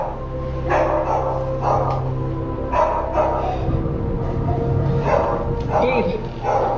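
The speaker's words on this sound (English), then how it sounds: "One night, the family dogs start going nuts" Several family dogs bark in repeated bursts inside a home at night, loud and close, with a person talking quietly between the barks.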